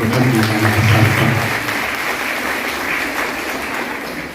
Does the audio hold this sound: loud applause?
yes